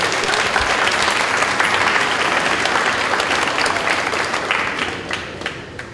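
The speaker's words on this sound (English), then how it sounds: "Students, please applaud your parents one more time for taking your time." A crowd of students at a middle school 8th grade awards ceremony applauds their parents, with dense, steady clapping that fills the room and holds for several seconds before easing off slightly at the end.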